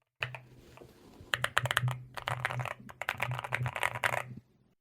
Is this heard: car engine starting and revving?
no